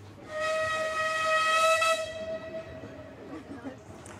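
A narrow gauge steam locomotive on the Ravenglass and Eskdale Railway gives one long, clear whistle that swells and fades, with a soft hiss of steam behind it.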